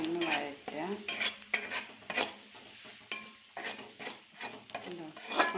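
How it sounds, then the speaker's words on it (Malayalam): Chinese potatoes being sautéed with chicken masala in a pan, with a spoon stirring and scraping in irregular bursts against the metal and a soft sizzle underneath, close up. "എല്ലാം കൂടെ ഒന്ന് വഴറ്റുക."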